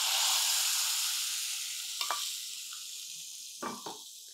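Tempering of dried chillies and asafoetida sizzles in hot oil, a loud steady hiss that fades slightly, broken by a couple of brief stirring clatters of the pan.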